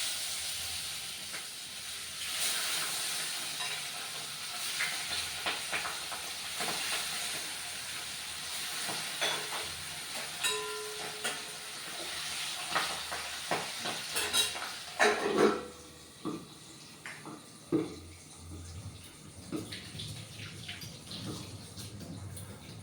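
Fish is dropped into hot oil in a pan, giving a steady sizzling hiss with scattered crackles and pops that grow sharper and louder partway through.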